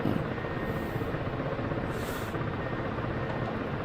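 A Black Shark helicopter in Digital Combat Simulator runs with a continuous engine roar and rotor whine, steady and moderately loud, with no voices.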